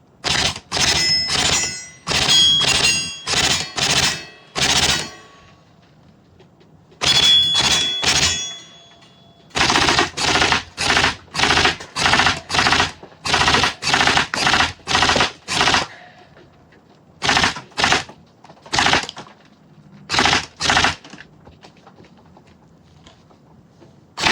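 A BZ DDM4 PDW toy gel blaster, run on an 11.1-volt battery and loaded with gel balls without tracers, fires in repeated rapid buzzing bursts separated by brief pauses, loud and close throughout.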